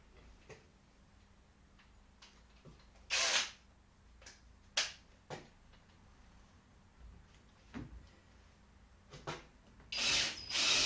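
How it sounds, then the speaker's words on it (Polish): M4 threaded inserts are screwed into holes on a test board, heard as quiet scattered ticks and clicks with a few brief louder bursts of a tool spinning, each separated by pauses in an otherwise quiet room. "w każdy z tych otworów wkręcę taką wkładkę z gwintem M4"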